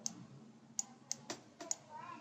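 Several sharp, quiet mouse clicks spaced irregularly across a couple of seconds, made while editing an anchor point in Adobe Flash, with faint background noise between them.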